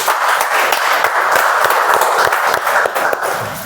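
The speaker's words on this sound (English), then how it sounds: "I think we can give a round of applause to him." Meeting audience clapping at a speech marathon, a dense and loud run of many hands with some sharper individual claps standing out, lasting nearly four seconds and tapering slightly at the end.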